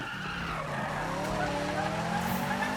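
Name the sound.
car tires skidding around a corner in Need for Speed video game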